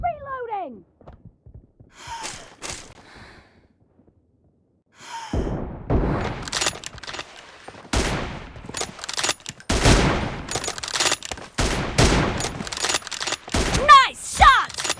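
Gunfire in a team-based shooting video game: scattered sharp shots and rapid bursts after a brief quiet gap, mixed with game voice lines and short vocal sounds.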